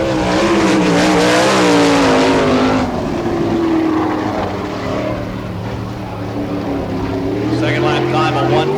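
A sprint car laps a Florida dirt speedway, the engine droning loud and continuous with pitch sweeps as it passes and recedes, while an announcer talks over the noise.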